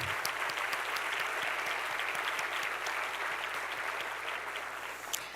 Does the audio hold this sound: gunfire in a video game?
no